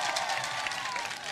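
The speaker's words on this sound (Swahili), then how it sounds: "Mnamjua, pigeni makofi" A rally crowd in Garissa claps together in a dense, continuous patter of many hands, loud and fairly close, with a murmur of voices mixed in.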